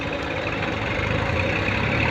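A Mahindra tractor engine runs steadily on gravel, a loud continuous low rumble with a knocking mechanical texture and no talk over it.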